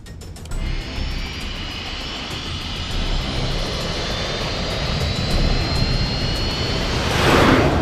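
Aircraft engine roaring steadily through a takeoff run in an action film, a loud sustained broadband rumble with a high whine that builds slightly toward the end.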